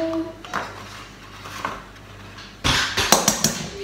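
Three eggs cracked against a bowl for carrot cake batter, a series of sharp close knocks and clicks at the end after a quieter stretch of light kitchen handling noise.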